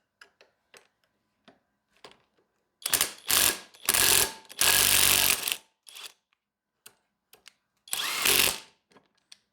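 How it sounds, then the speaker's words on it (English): Uaoaii IW800 brushless cordless impact wrench on a nut, firing in several loud, close hammering bursts, some brief and some lasting about a second, separated by quiet gaps with small clicks and handling noises. "The little impact's got some juice to it."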